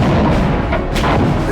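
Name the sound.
massive artillery barrage at El Alamein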